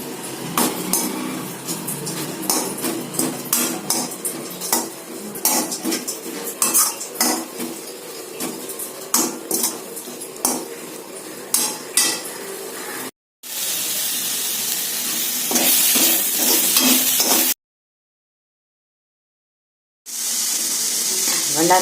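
A metal spoon stirs vallarai keerai spinach and coconut stir-fry in a pan, with steady, close scraping and clinking in quick uneven strokes, then a brief dropout, a denser stretch of scraping, silence and a final burst.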